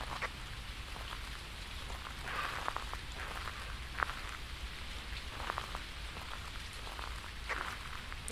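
Steady rain patters on surfaces at a campsite in the ghost-hunting game Phasmophobia, a continuous soft hiss with scattered droplet ticks and no voices.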